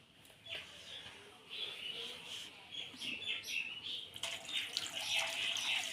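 Food is rinsed under a running tap, a faint steady water hiss that strengthens toward the end, with birds chirping softly in the background.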